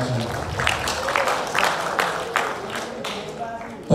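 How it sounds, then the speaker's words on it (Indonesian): Applause from an audience at an Indonesian Pilkada 2024 voter-education gathering, a scattered, uneven patter of hand claps with distinct sharp slaps standing out over a low murmur of the room. "Boleh tepuk tangan lagi."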